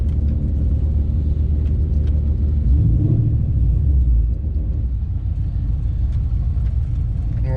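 A supercharged Foxbody Mustang at the drag strip rumbles with a deep, heavy engine drone, swelling briefly as it builds revs for a launch near 5,000 rpm, then settling back into a steady low roar.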